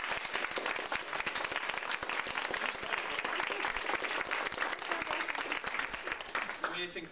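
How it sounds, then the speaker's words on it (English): A standing crowd at an after-party gathering bursts into sustained, loud applause, dense clapping filling the whole stretch evenly with no pause. "Standing round of applause."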